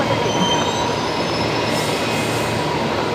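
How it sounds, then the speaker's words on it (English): An Airtrain pulls into the domestic platform at Brisbane Airport with a loud, steady rumble of rail cars and faint high wheel squeal, heard from just above the platform. "Air train arrival just below us here on the domestic platform as the A330 touched down."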